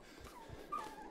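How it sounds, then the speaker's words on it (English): Faint, brief whimpers come from a dog caught in a trap in the horror game Maid of Sker, half buried in a dull, noisy background. "That's the dog."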